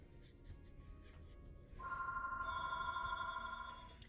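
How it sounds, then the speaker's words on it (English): Telephone ringing indoors during a quiet sketching session, a faint electronic ring tone that comes in partway through and holds steady for a couple of seconds over low background noise. "Sorry about the phone ringing."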